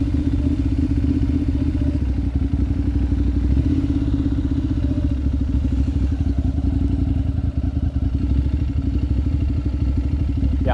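A second-hand motorcycle idles and putters along a road in Thailand while turning around, its low engine rumble steady and close with faint clattering and no talk over it.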